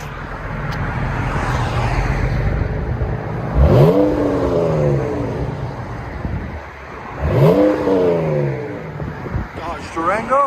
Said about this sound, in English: Durango Limited Resonator Delete